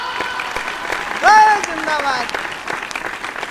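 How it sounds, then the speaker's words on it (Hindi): An audience at a Hindi comic poetry gathering claps in a continuous patter while a voice shouts a slogan over it, then talk continues. "आपकी तालियां कमजोर है।"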